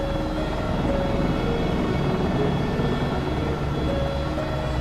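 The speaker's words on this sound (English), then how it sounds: "Such a joy to fly this helicopter," Airbus AS350 B3+ helicopter in flight between Glasgow and Oban, a steady rotor and turbine drone heard from inside the cabin, continuous and fairly loud with no talk.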